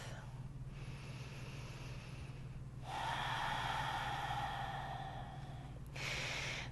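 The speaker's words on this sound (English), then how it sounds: "Taking one more full breath." A slow, deep breath during a mindful yoga practice: a long audible inhale followed by a soft exhale, close and quiet against a steady low hum.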